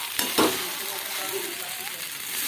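Chow mein noodles with tomato ketchup being stirred in a pan, a continuous sizzle and fry with a couple of sharp scrapes near the start, steady and fairly loud throughout with no talk.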